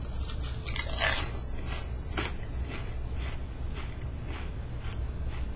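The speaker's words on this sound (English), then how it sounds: "now I'm going to crunch for a minute" Someone crunches on a crunchy, spiced, chip-like snack close to the microphone, with a series of repeated bites and chewing crunches over about five seconds and no talking.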